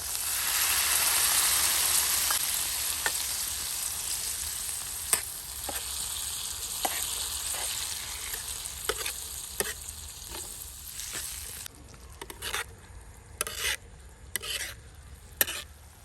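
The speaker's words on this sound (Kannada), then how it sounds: "ಈಗ ಇದಕ್ಕೆ 2 ಟೊಮೆಟೊ ಪ್ಯೂರಿಯನ್ನು ಹಾಕ್ತಾ ಇದ್ದೇನೆ." Tomato puree sizzles and fries in a hot pan for street-style egg tawa masala. A steady hiss fades slowly, broken by scraping and clicking spoon strokes toward the end.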